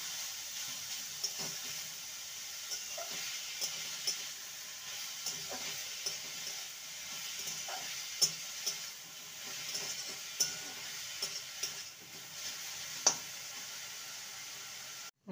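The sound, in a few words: carrots being stirred and fried in a pan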